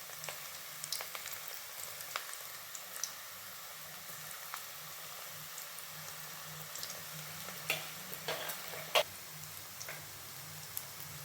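Evening snacks fry in oil with a soft, steady bubbling hiss, quiet and close, scattered with occasional faint pops and clicks.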